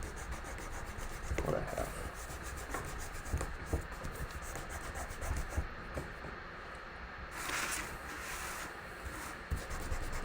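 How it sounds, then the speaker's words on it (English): An eraser rubs pencil grid marks off a paper art project in steady, close scratchy strokes, with brief quiet speech over the low rubbing. "I'm going to erase this."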